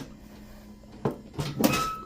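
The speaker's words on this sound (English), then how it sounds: "this drawer is like made out of metal, so it's like this." A metal drawer in a dorm room slides and bangs, giving a sharp clack then a louder rattling scrape and thud near the mic, over quiet room tone.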